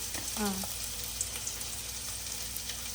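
Onions and green chillies for sweet corn fried rice fry in a pan, a soft continuous sizzle with a brief rattle as they drop in, faint and steady throughout.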